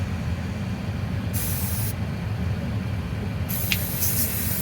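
A K2 K222FL air-conditioner cleaner aerosol hisses steadily inside a closed BMW 3 Series F30 328i with the ventilation fan running on maximum. The spray comes in bright bursts over a constant low blower rumble.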